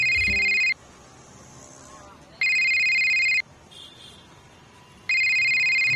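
A telephone rings in three loud, evenly spaced electronic bursts, with quiet room tone between the rings, in a scene from a Marathi TV serial.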